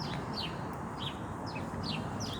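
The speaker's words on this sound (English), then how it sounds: "And the singing birds on top again, everywhere I go." Birds sing overhead outdoors, several short bright chirps repeating at roughly even intervals above a steady broadband background hum of open-air noise.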